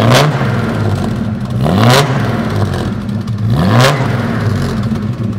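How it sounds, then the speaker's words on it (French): A Jaguar six-cylinder engine is blipped three times in succession, each rev climbing sharply and then falling back to a throaty idle, loud and close with no talking. "Bon, je mets un petit coup de gaz ou deux."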